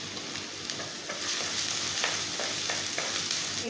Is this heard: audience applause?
no